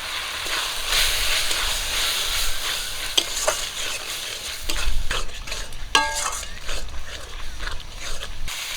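Ground spices with turmeric and Kashmiri chilli powder fry in oil for katla fish kalia, giving a loud continuous sizzle with scraping stirs and occasional clinks of a spoon on the pan.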